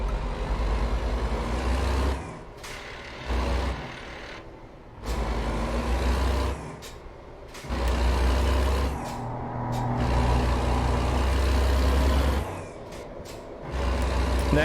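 A stock truck in a truck simulator game idles and revs with a deep, loud engine rumble, interrupted by several hissing air-brake releases and gaps.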